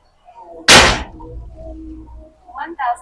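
One sharp, sudden crack of a Ruger air rifle shot during a test, close and loud, followed by a quiet hum and faint voices.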